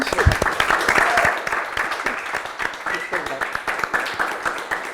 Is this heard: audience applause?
yes